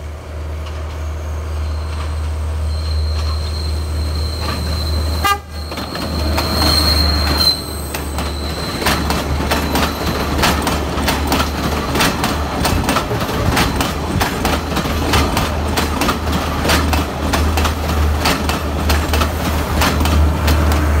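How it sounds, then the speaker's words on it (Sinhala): A train passes on a Sri Lankan railway line, with a sharp click and loud, continuous wheel clatter and squeal rolling on for many seconds over a low steady rumble, with no talk. "මේ අප ඉදිරියට හමු වුණ පළමු දුම්රියයි."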